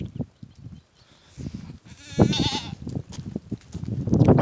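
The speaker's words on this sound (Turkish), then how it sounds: "Baxın keçimiz də gəlir." A goat gives a clear, wavering bleat close by, rising out of a rustling, shuffling outdoor background of footsteps and movement.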